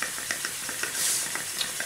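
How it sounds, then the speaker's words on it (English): A small model steam engine, fired by a little stove, runs with a continuous hiss and a quick series of light, regular mechanical ticks and clicks, heard close up with no talking. "Well, my steam engine's a success. That's worked very, very well, and it's nearly still going."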